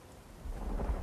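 Rain and a low rumble of thunder in the video game Myst Online: Uru Live, a soft steady patter with a deep roll swelling up partway through, brief and fairly faint.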